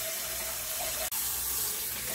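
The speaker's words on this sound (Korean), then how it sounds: "찬물에서 여러 번 헹궈줍니다" Cold tap water runs steadily into a sink while cooked noodles are rinsed, a continuous close splashing stream with one brief break.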